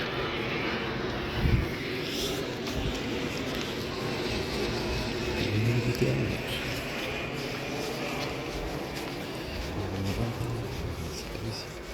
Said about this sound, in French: L'avion de Shield, ça. Les agents de Shield. Il est bizarre cet avion.